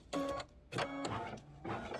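A Kimberbell embroidery machine runs a body stitch-down on a pillow project in three short, even bursts of rapid mechanical stitching, close and clear with brief pauses between.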